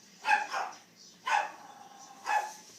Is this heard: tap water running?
no